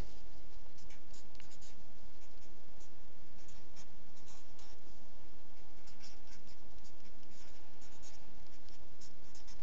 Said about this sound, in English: I'm going to write those out a little bit bigger so they're more functional to work with.